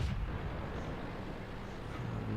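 Tank cannon fire in World of Tanks from a Churchill 3 dueling a VK 30.01 H, a dense, rumbling low boom that fills the moment with sustained battlefield roar, no talk over it.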